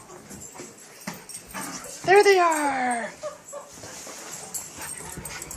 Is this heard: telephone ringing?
no